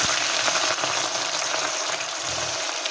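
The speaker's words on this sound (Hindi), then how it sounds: "अब इसमें ये बड़ी कटी हुई प्याज अब हम इसमें फ्राई करेंगे" Large chopped onions frying in heated oil, a loud, dense, continuous sizzle that stays steady for the whole stretch, with no talking over it.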